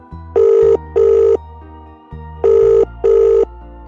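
A telephone rings loudly and close by in the classic double-ring pattern, two pairs of buzzing bell tones with a pause between them, over a low background tone.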